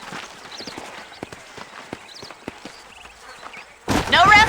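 Horse hooves clip-clopping in the Red Dead Redemption video game, a loose irregular rhythm of soft thuds mixed with faint game ambience, ending in a louder burst of voice-like sound.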